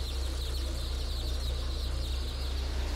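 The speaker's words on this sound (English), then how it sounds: "Chicks are roughly dumped onto moving conveyor belts, which haul them off to be sorted, debeaked, and for the males, killed." Dense, constant peeping of many baby chicks at an industrial hatchery, with the steady hum and rumble of conveyor belts and sorting machinery underneath, loud and continuous.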